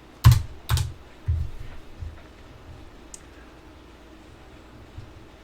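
Keys on a computer keyboard are typed while entering inventory data into a grid, a handful of close, distinct clacks in the first two seconds, then sparse taps against quiet room noise.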